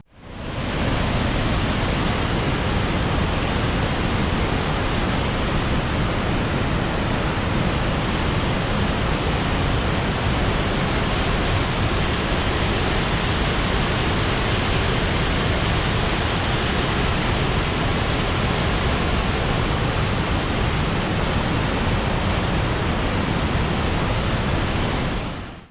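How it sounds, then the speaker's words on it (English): A thundering waterfall in Banff National Park pours in a loud, constant roar of rushing water. The wide, steady wash never lets up, and no voices are heard. "Get ready for the thunderous sounds of this amazing waterfall Rick showed me."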